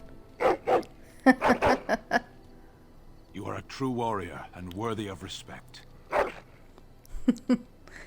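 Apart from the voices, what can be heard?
dog barking in the video game Dragon Age: Origins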